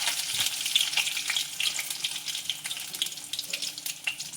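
Ginger pieces and dried chilies sauté in oil in a pan, giving a close, steady sizzle and crackle with occasional spoon stirs, alone and without talk.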